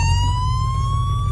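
An ambulance siren wails steadily nearby, a loud rising electronic tone over a low rumbling vehicle engine, with no talk.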